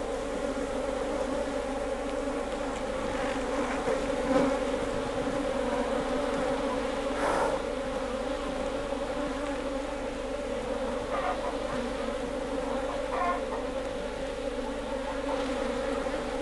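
A dense, steady hum of many honeybees buzzing close by around an open swarm hive being inspected, continuous throughout with slight swells in intensity.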